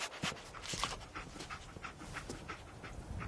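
Dogmeat, the dog companion in Fallout 4, pants steadily in a rapid, rhythmic series of breathy huffs, close but fairly quiet, with no talk over it.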